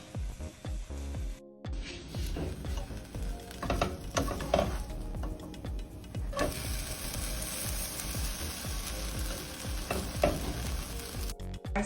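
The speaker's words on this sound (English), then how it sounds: "we're just gonna place it right in the middle of the pan and smash that down" A grilled cheese sandwich, a South African braaibroodjie, is pressed down in a hot pan and fries with a steady, close, crackling sizzle that runs the whole time, with small stirring and scraping touches and no talk.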